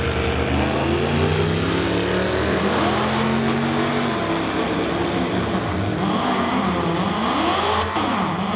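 A 2019 Dodge with a 392 Hemi launching down a drag strip, its engine roaring loud and close, pitch climbing through gear changes with sharp shifts and dips.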